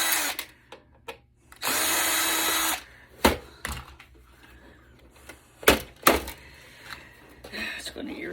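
A power drill backs screws out of a Dell small-form-factor computer case in a loud, steady whirring burst, surrounded by sharp clicks, clatter and handling knocks at close range.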